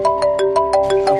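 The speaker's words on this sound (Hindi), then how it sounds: "अब ये फोन कौन कर दिया?" A mobile phone ringtone going off indoors, a loud, close electronic melody of rapid repeating tones in a quick, steady pattern, heard alone without talk.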